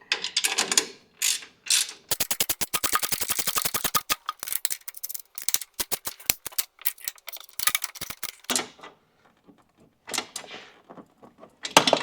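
Rapid ratchet clicking in bursts as the strut top mounting bolts on a 2005-2015 Toyota Hilux N70 are tightened, with short pauses and a few louder clunks toward the end. The clicks are close and there is no talk.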